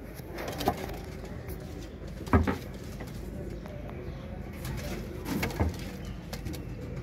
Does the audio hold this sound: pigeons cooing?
yes